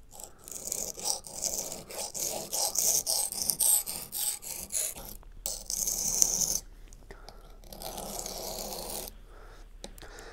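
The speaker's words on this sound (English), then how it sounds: "I've been sharpening away for quite some time" A Buck 110 knife with an S30V blade is drawn across a sharpening stone in repeated rasping strokes, close and rhythmic, with short pauses between passes.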